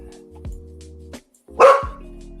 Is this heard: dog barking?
yes